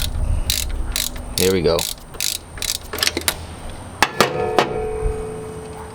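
A ratchet loosening the power steering bolts on a 2001 NB Mazda Miata gives short bursts of sharp metallic clicks, close and fairly loud, with a brief spoken phrase in the middle.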